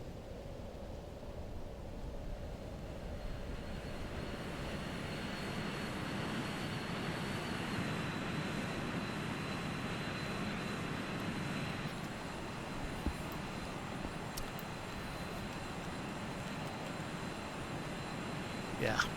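The jet engines of a Challenger 300 business jet in the X-Plane 11 flight simulator give a steady, even, broadband drone that holds without a break throughout, fairly faint and unchanging.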